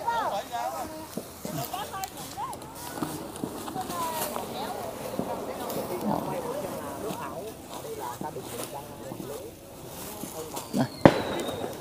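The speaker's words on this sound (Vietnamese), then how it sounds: "nói chung ngày hôm nay thì ở đâu cũng đốt pháo mọi người ạ" Strings of firecrackers crackle and pop for Lunar New Year in a Kinh ethnic village in China, a dense ongoing rattle with a sharper bang near the end, while people talk over it.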